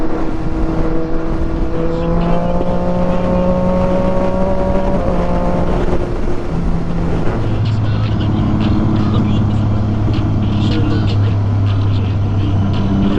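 A sport motorcycle ridden to a bike night in Los Angeles, with a loud, steady engine whine that climbs in pitch and shifts gear around the middle, over constant wind rush close to the rider.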